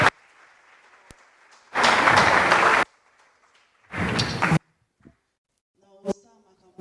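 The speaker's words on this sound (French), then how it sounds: "applaudissez d'abord pour mon invité" Audience applause at a Kinshasa university event, two short loud bursts of clapping separated by quieter room sound and a few faint thumps.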